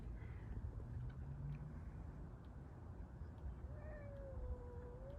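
A neighbor's cat meows softly several times at moderate distance, a drawn-out low call followed by a higher, wavering meow over a quiet, steady background hum.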